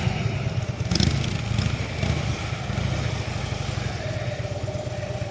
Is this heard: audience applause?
no